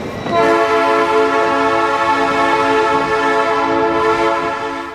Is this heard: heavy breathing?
no